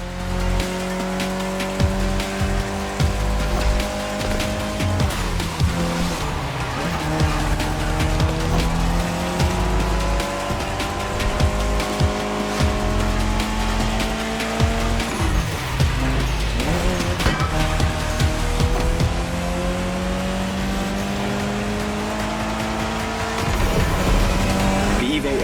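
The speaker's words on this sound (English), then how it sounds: "especially your new ride, Toji's Mitsubishi Lancer Evo X" A Mitsubishi Lancer Evo X races in the driving game Motorfest, its engine revving loud and close with repeated rising and falling pitch sweeps, while tyre squeal mixes into the steady roar.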